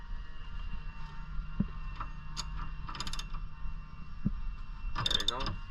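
A wrench working a 5/16 bolt on a Polaris Ranger during a lift kit install: faint clicks and a short ratcheting burst near the end under a steady low hum, with a couple of soft knocks.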